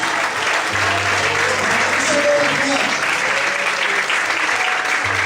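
Steady, loud applause from a church congregation fills the space without a break, dense clapping with voices mixed in underneath and some organ-like tones.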